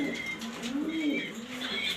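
Pigeons coo in soft, low, rolling calls, a few overlapping phrases repeating steadily at close range with faint background chatter; the birds are a breeding pair of light-coloured Super Mili racing pigeons.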